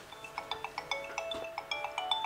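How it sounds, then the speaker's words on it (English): A mobile phone plays its startup melody, a quick run of bright, bell-like electronic notes repeating in a lilting pattern, fairly faint and heard alone without any voices. "there the phone starts up, but with no SIM card"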